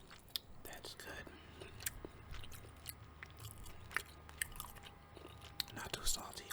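Brussels sprouts are chewed close to the mic with soft wet crunches and smacks, faint and intimate, with occasional quiet breathy sounds between bites.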